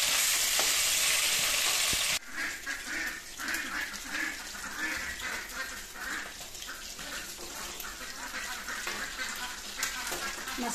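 Fish sizzling as it is lowered into hot oil in a pan for an Assamese fish curry, a loud burst of frying at first, then a steady crackling sizzle that continues with small stirring noises.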